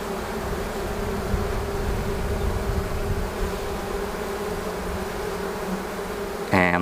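Honeybees buzz steadily and close by during a spring hive inspection, a dense continuous drone with a brief louder knock or clatter at the very end.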